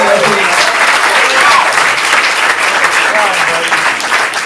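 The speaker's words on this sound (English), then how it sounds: "give Phil a big round of applause" Loud, close applause from a comedy club crowd fills the room after a stand-up class showcase set, a thick continuous wash of clapping with faint voices mixed in.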